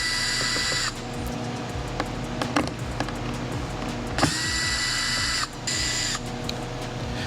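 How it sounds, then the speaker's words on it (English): Trim screws come out of a car interior as a small power driver whirs in short high-pitched bursts, with clicks and rattles of loose screws between runs, close and fairly quiet, with no talk. "Now we're gonna start removing all the screws that hold the trim piece into place."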